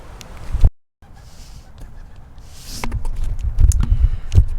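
Backyard chickens cluck and squawk close by, a run of loud, uneven calls building after a brief dropout, with no talk over them.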